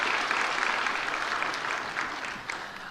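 Church congregation applauding steadily for nearly three seconds, a dense, even wash of many hands clapping at moderate level with no voices on top.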